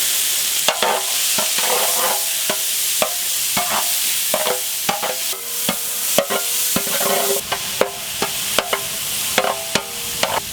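Small shallots fry in coconut oil in an outdoor village kitchen, giving a loud, steady sizzle broken by sharp, repeated scrapes and knocks from a stirring spoon against the pan, with no voices.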